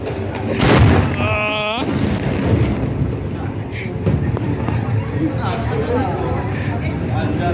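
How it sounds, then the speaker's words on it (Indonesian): Carbide cannons (meriam karbit) fire on the bank of the Kapuas River, one deep booming blast followed by rumbling echoes and crowd noise, with more distant thuds and voices talking throughout. "Itu meriam karbit guys."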